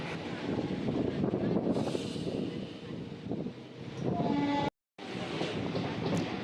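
A local train pulls slowly into Pandua station, producing a steady, loud rolling rumble mixed with wind buffeting, broken by a brief moment of silence before the rumble resumes.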